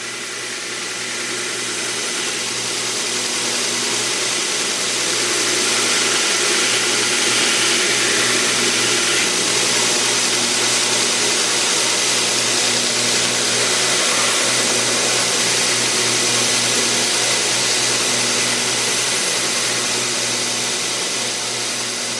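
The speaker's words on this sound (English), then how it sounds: "I'm going to clean that up on the belt sander." A belt sander runs continuously, smoothing the edge of a leather knife sheath for a chef knife, giving a steady loud whirring drone with a faint grinding texture throughout.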